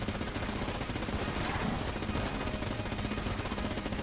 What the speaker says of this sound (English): I feel really slow using this Vulcan Cannon